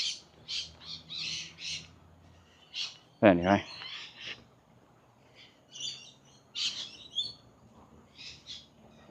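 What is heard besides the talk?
parrots and lorikeets squawking and chirping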